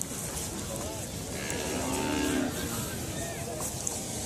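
Cattle moo at Rajshahi city cattle market, a few drawn-out lowing calls rising over a constant background murmur of the busy market.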